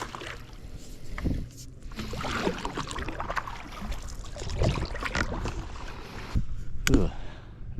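Paddle strokes through water from a small boat, soft splashes and dribbles at irregular intervals, fairly quiet and close, no speech.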